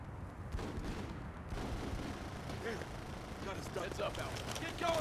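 Gunfire in the squad-combat video game Full Spectrum Warrior, a steady crackle of rifle shots and distant explosions sustained across the whole stretch, layered with battlefield ambience and bursts of voice.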